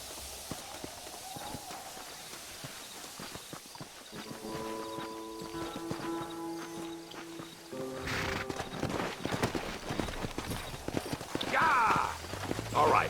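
Horses gallop in the Red Dead Redemption game, hooves clopping in a quick steady rhythm over game music and ambient effects, growing louder toward the end.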